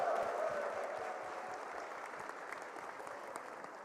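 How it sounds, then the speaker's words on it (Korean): Sustained applause and cheering from an audience closing the 2013 South Chungcheong residents' summit, a dense steady roar of clapping that fades slightly over its length. "여러분 큰 함성과 박수로 막을 내려주시기 바랍니다"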